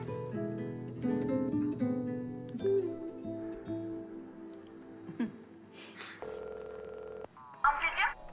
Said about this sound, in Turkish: Neyse ben Eda'yı bir arayayım.